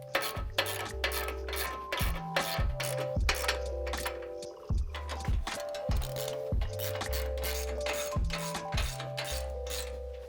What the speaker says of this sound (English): now we can work on tightening that upper control arm